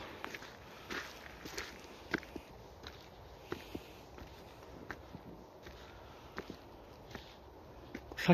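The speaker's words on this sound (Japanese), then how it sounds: "めっちゃ今足音聞こえた気がした。" Sparse footsteps at a shrine at night, a handful of soft, irregular steps spread over several seconds against a quiet, hissy outdoor background, faint and somewhat distant, with no talking.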